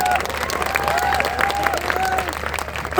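Audience applause at a business motivational gathering in Bhopal, a steady wash of clapping from a crowd mixed with a voice speaking over it throughout.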